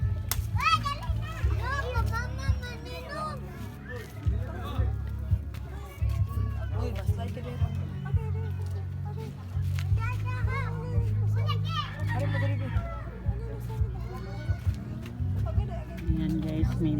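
Children play and shout by the sea at a beach in a Philippine barangay, a constant lively babble of kids' voices and squeals with nearby running about, dense and continuous throughout.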